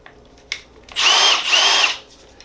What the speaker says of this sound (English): a 2850-20 impact drill. Got any juice in here?